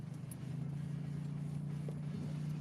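Steady low rumble of car tires rolling on a road, a continuous droning hum with faint road noise and no voices.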